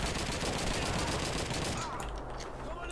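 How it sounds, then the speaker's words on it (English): Gunfire in the World War II shooter Call of Duty 2, Russian campaign: dense, rapid automatic shots in a continuous rattling barrage that thins out toward the end. "I just shot him like a gajillion times."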